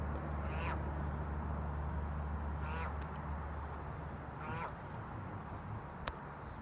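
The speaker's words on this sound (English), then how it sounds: "Look at this duck right here." Ducks quacking in short bursts during a New Hampshire goose hunt opener, moderately distant over steady outdoor background noise, with several separate calls spaced a couple of seconds apart.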